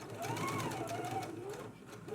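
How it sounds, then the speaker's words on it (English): Sewing machine stitching the closed ends of a cuff at a 5/8 inch seam allowance, a continuous close whirring hum with rapid needle ticks, a voice talking over it. "let's go ahead and stitch the ends closed right now"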